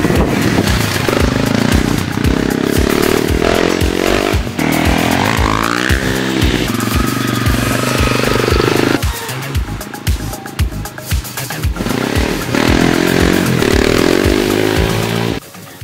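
A Honda CRF250M supermoto motorcycle is ridden with its single-cylinder engine buzzing loudly and continuously, revving up and down through gear changes with a brief drop in pitch near the end.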